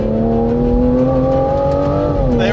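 A 2025 Aston Martin Vanquish with a 5.2-litre twin-turbocharged V12 pulls hard under acceleration, a loud steady engine tone rising in pitch with a slight dip near the end.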